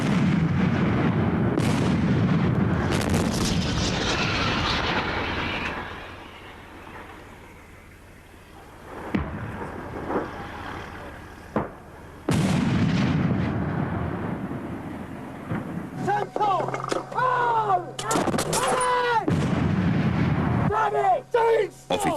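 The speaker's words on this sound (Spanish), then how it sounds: "Cuando disparas este cañón de 105 milímetros," A tank firing its 105 mm cannon, with heavy booming blasts and rumbling echoes rolling through the clip, plus a voice speaking over part of it.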